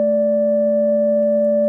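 A pure, steady sine wave tone from a Polybrute synthesizer hums at a constant pitch, loud and unwavering, with a faint higher overtone and no other sound.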